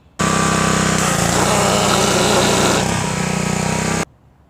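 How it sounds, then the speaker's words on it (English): A running pressure washer pump chatters with a steady, loud, buzzing whir for about four seconds, then cuts off abruptly. "it pumps and sprays, but it makes like a chattering noise"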